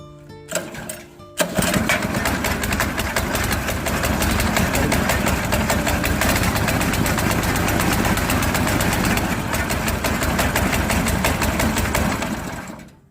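After a brief start-up, a Bharat Shakti 7.5 HP petrol engine on a fodder chopper idles loudly and continuously nearby with a steady buzzing rattle, then cuts off at the end.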